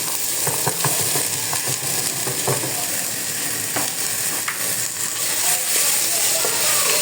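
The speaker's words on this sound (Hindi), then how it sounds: "अब मैं डालने लगी हूँ सारी मिक्स सब्जी" Mixed vegetables with crushed ginger and garlic sautéing in a pan over a strong gas cylinder flame, a steady close sizzle with scattered stirring clicks throughout, no talking.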